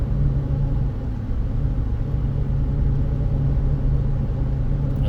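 Car interior on a drive through Crawford Notch in fall, a steady loud low road rumble and engine drone with no breaks.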